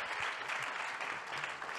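An audience claps in a steady, dense burst of applause. It is brief and even throughout, with no voices on top.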